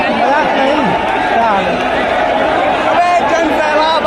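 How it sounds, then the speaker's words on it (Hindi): Large crowd of protesting UPPSC students, a loud continuous din of many overlapping voices and shouts close by, sustained without a break. "यह भीड़ देखिए आप।"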